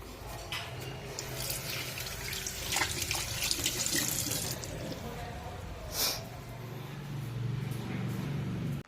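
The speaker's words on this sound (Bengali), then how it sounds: "এদিকে দেখো জলটাও তুলতে হবে" Tap water runs steadily into a container as water is drawn at home, with a few louder splashes and clanks partway through; someone speaks quietly over the flow.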